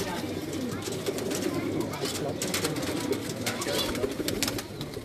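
A Lal Pari pigeon coos softly on a rooftop loft, with low repeated calls set against steady background noise and a broad hiss throughout.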